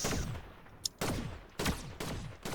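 Gunfire in the Fortnite Reload video game: a rapid sequence of sharp shots, then four separate bursts spaced about half a second apart, each with a short echoing tail, fairly quiet and without talk.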